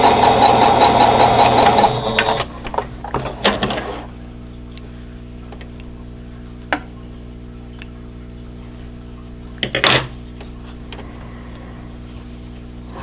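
A sewing machine stitches quilt block pieces for a stash-buster block in a fast, close burst of rhythmic clatter for about two seconds, followed by scattered handling clicks and near quiet.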